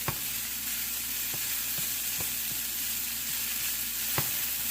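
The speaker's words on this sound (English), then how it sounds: "I'm going to add in a cup of 3-day-old rice." Three-day-old rice fries in a hot pan with a steady, dense sizzle, broken by a few faint clicks and scrapes of stirring.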